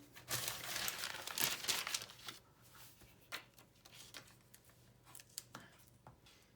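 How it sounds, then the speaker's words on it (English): Paper pieces being folded and glued for a pair of paper ballet shoes, giving close crinkling and rustling that is busiest early on, then scattered soft crackles and taps. "So take each piece, fold in two, apply glue."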